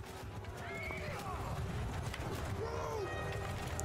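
Horse archers' mounts in the video game Mount & Blade II: Bannerlord neigh several times over steady clip-clopping hooves amid battle noise, with someone talking over the action.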